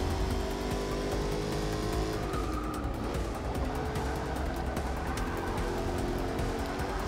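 Race car engines roar in the racing video game Forza 6, a dense, steady mix of several cars droning and revving close together, with one engine pitch sweeping down midway and continuous loud engine noise throughout.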